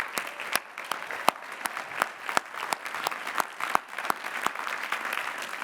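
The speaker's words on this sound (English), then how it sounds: "Please recognize the recipients of these degrees with our hearty congratulations and applause." A university commencement crowd at Lehigh applauds degree recipients: a steady, broad roar of clapping fills the space, punctuated by loud, crisp claps from nearby hands at a regular pace.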